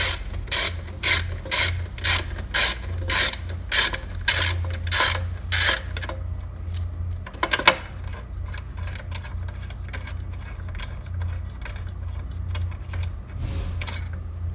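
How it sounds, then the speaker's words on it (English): A 12mm ratchet loosening the horn bolt on a Honda GL1800 motorcycle, a string of crisp rhythmic clicks for several seconds, then softer scattered handling noises over a low background hum. "that's done with a single 12mm ratchet to take that out"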